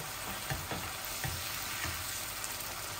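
Onions fry and get stirred in a pan for a rohu fish dopiaza, giving a soft, steady sizzle with light scraping strokes. The sound is quiet and close, with no talking.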